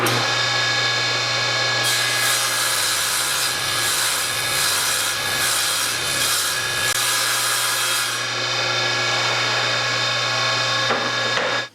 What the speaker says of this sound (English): I'm going to put the factory edge of the sheet, which is very straight, against the fence and make that shallow cut